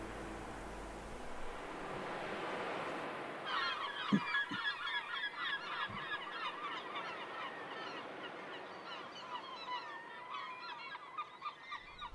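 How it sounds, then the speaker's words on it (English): Seagulls calling over a noisy outdoor background, a dense run of repeated squawking cries that starts a few seconds in and carries on steadily to the end, fairly loud and close. "I freaking hate seagulls, by the way."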